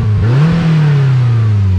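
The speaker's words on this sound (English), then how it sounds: "It has a 178 horsepower 2-liter 4-cylinder engine that revs to" A loud 178-horsepower 2-liter 4-cylinder engine on a 2022 Polaris Slingshot S three-wheeler revs up and holds a steady, droning pitch close by, with a slight rise at the start.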